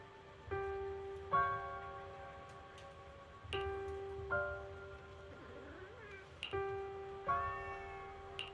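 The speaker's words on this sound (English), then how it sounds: "Oh, there's a cat over there." A cat in the Zenless Zone Zero video game meows several times in short tonal calls, spaced a second or two apart over a steady soundtrack.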